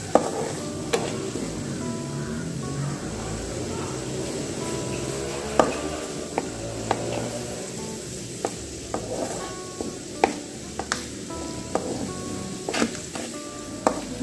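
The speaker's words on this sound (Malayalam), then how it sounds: "ഇഞ്ചി നമുക്ക് വറുത്തെടുക്കാം." Chopped ginger fries in hot oil in a pan, with a continuous sizzle and sharp, irregular clicks and scrapes as a utensil stirs it.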